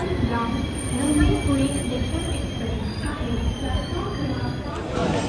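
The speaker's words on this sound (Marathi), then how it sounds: "ठाण्याला बरोबर 2 मिनिटाचा हॉल्ट घेऊन ट्रेन परत निघाले पुढच्या प्रवासाला" A train rumbles steadily along the rails with a high squealing whine above it, loud and close, as if riding on board while it pulls away from Thane station.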